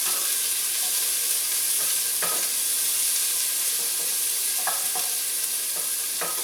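Onions and bacon fry in a pan with a bright, constant hiss and crackle, punctuated by several sharp scraping clacks as the contents are tossed and stirred.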